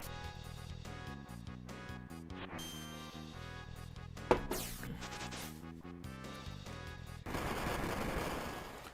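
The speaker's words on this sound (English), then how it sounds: "Ooh, just drop the grenades on him." Explosions from the Line Bomb dual tech in the SNES game Chrono Trigger, a burst of blasts over the game's music with a sharp bang near the middle and a noisy rumble at the end.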